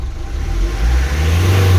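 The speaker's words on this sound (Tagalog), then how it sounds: "Try nating i-rave ang makina" A Mitsubishi 4P10 engine revs up, a steady loud mechanical roar that climbs and holds, close to the microphone with no voices; its RPM gauge has stopped working.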